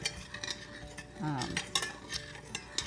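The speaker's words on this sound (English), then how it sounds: "All this will get stirred up until the sugar dissolves." A spoon scrapes and stirs sugar into sushi rice seasoning in a pot, with soft rhythmic clinks and swishes of utensil against metal, quiet and close.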